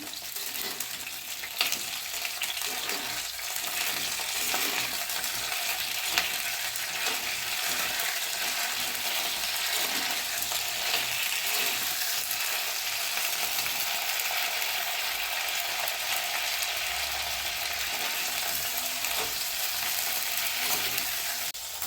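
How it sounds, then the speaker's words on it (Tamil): Brinjal pieces fry in hot oil for an oil-fried brinjal kara kuzhambu, giving a steady, dense sizzle throughout with faint clicks and scrapes of stirring underneath, close and even in level. "கத்திரிக்காய் நல்லா எண்ணெயிலே வேகணும்."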